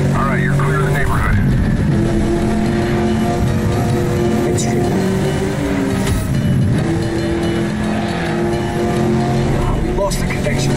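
In the video game Medal of Honor: Warfighter, a car engine drones loudly and steadily while driving. Someone talks over it throughout.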